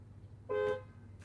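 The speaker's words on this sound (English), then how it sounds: "So the horn sounds like from inside the car with the window rolled down." A single short honk from the horn of a 2021 Bentley Flying Spur V8 First Edition, captured from inside the cabin with the window down, a steady bright tone over a low engine hum.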